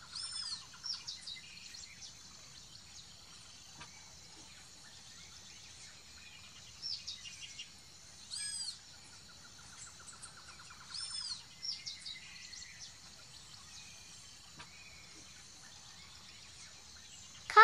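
Cockatoos give repeated shrill, rasping calls in short bursts separated by pauses, fairly close and clear against a quiet background, with no voices present.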